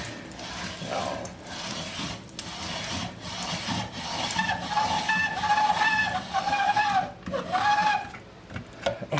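A grinder whirs and rasps as dry ham is ground for a sandwich spread, a steady mechanical churn with a rising tonal whine near the microphone.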